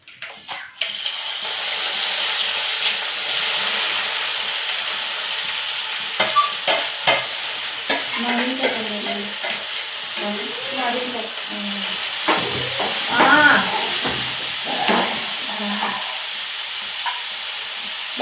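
Onions fry in a pan with a steady sizzle, and intermittent stirring scrapes and clatters over it. The cooking noise runs close and fairly loud throughout, with no speech.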